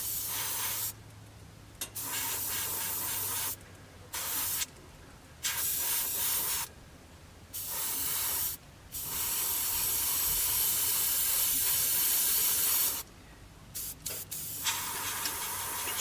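An airbrush sprays MRP paint onto a 1/48 scale Hurricane model in light coats, giving a steady, loud hiss in repeated bursts separated by short pauses.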